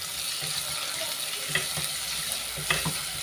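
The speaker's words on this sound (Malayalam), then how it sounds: "കുറച്ച് ചെറിയ ഉള്ളി അതിൽ ഇട്ട് കൊടുക്കുക." Crushed small red shallots hit hot oil with fenugreek in a pan for a Kerala fish curry, giving a steady, close sizzling hiss with a few soft clinks and pops rising briefly above it.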